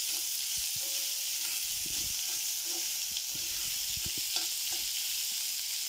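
Onion sautéing in a pan over a raised flame for a dry bitter gourd bhaji, a constant sizzling hiss with intermittent stirring scrapes and clicks of a spatula, no speech.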